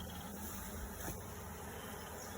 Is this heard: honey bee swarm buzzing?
yes